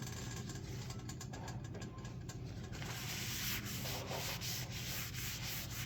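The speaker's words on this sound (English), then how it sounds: "Re-season the cast iron. And then just wipe off any excess that there is." A paper napkin wipes excess oil around the inside of a freshly re-seasoned cast iron pan, making close, continuous scuffing and rubbing with a few distinct strokes near the end, over a low background hum and no talk.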